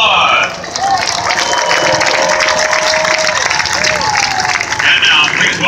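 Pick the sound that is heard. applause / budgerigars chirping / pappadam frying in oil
applause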